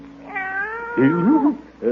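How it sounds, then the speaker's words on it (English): A cat meows in a vintage family radio comedy, a drawn-out wavering meow followed by shorter rising cries, close and fairly loud with no talk over it. "Shh, quiet, cat."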